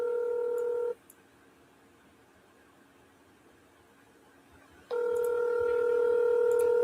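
Steady telephone keypad tones sound clearly, then cut out to near silence for several seconds before the loud tones return, with no voices.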